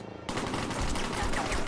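Rapid bursts of gunfire in the Henry Stickmin Collection video game, a loud, dense volley of automatic shots that starts abruptly after a brief lull and continues without pause.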